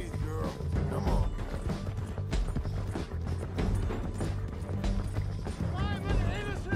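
Horse galloping in the Western video game Red Dead Redemption 2, steady clip-clop hoofbeats running under loud shouting voices and game action throughout.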